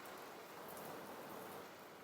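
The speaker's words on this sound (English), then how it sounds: "It's raining." Steady, dense rain falls on a fishing day, a continuous even hiss with no pauses or talk.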